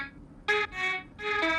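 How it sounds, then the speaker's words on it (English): A vocal-style synth lead from the Contact Exhale sample library plays a few bright sustained harmonic notes with short gaps between them, alone and clear. "It's a kind of a vocal leads that sounds like this."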